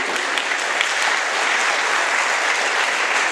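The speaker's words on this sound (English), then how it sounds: "please applaud all the people that are here that are trying to represent you tonight" Audience applause fills a San Francisco District 3 candidate debate, a dense, steady clapping from a full room that stays loud and even from start to finish with no voices over it.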